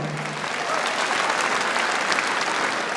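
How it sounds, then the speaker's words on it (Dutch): Spectators at a stallion inspection applaud the horses in the lap of honour, a broad, sustained wash of crowd clapping with a faint low hum at the start. "allemaal nog even extra applaus voor deze hengsten in de ereronde"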